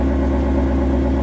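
A Ford Mustang engine idles just after startup, a steady low rumble with a smooth, even throb running without a break, loud and close, with no talk over it.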